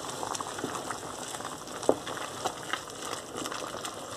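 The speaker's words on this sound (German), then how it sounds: "Dann machen wir das Mehl rein. Und dann wird sofort gerührt." Flour is stirred into a simmering carrot stew in a pot, giving soft bubbling, gentle scraping and faint clinks close by, low and continuous.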